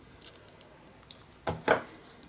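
Scissors snip through knitting yarn while working on a popcorn-stitch baby sweater, giving two quick, close cuts in a row after a few faint handling ticks, with no talking.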